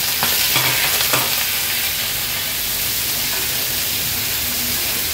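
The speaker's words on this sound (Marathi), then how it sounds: "तेल आता आपलं गरम झालं, हे स्वच्छ धुतलेले प्रॉन्स आपण ऍड करूया तेलावर।" Washed prawns frying in hot oil in a pan for butter garlic prawns give a steady, close sizzle that fills the whole stretch, with a few light stirring clicks near the start.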